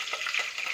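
Green chillies sizzle in hot oil with leftover rice, a steady close crackle that is brief and without talk.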